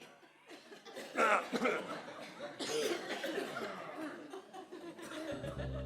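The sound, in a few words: audience coughing during a concert pause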